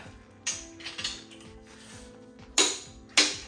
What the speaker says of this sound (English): we're gonna crank these to 90 foot-pounds